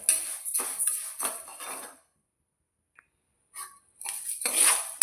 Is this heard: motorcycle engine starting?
no